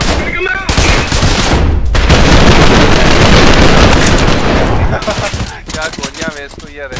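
Gunfire in the first-person shooter Trepang2, loud sustained automatic bursts pounding for several seconds, then breaking into scattered shots with someone talking over them.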